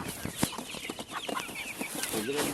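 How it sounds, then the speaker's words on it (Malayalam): Black Karinkozhi chickens, roosters and hens together in a home coop, cluck softly and intermittently at close range amid rustling, with a faint voice in the background. "അത് പൂവനാണ് ഇത് പൂവൻ അത് പെട അത് പെട ഓക്കെ ഇത് പൂവൻ അത് പെട"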